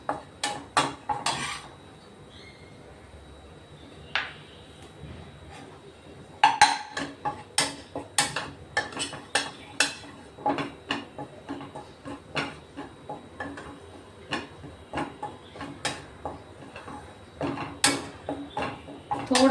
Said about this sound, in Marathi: पीठही आपण थोडं भाजून घेऊ, कारण त्याचा कच्चापणा निघून जाईल ना